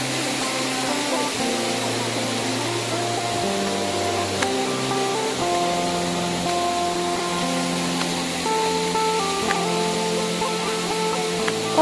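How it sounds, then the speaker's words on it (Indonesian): Steady broadband rush of water from the Lano waterfall in South Kalimantan, a continuous spray-like roar filling the whole clip, with faint tonal hum and a few brief clicks over it. "Saya pikir ini sudah air terjun Lanonya."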